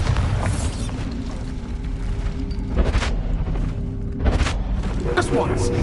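Bombarda spell explosions in the Hogwarts Legacy video game, two booming blasts a second or so apart with a rumbling tail, over continuous game sound and with voices in the mix.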